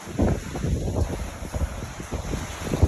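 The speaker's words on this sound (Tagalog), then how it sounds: "Grabe ang bagyo." Strong typhoon wind from Typhoon Tino roars and buffets the microphone in continuous heavy gusts, loud and close, with rushing, rumbling turbulence and no clear speech.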